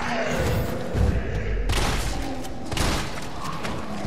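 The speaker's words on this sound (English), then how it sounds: "I'll just use regular zombies to show off perfect dodging with the shotgun." M3 shotgun fired at regular zombies in the Resident Evil 3 Remake video game, heavy booming blasts landing about once a second amid thuds and game noise, with no talk over them.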